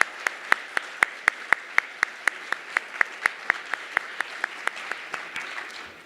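Applause for high school teachers at an awards evening, with a roomy wash of clapping crowd and one pair of hands cracking out a sharp, regular beat about four times a second, steady for six seconds.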